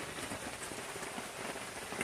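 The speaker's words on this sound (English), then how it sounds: "I think the rain is bothering him to a degree." Steady rain patters on a surface close by, a dense even hiss of drops with no voices.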